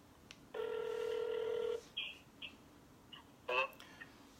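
A telephone call rings out on the line: one long steady electronic tone, followed by a few short faint chirps and a brief second burst near the end, with no talking.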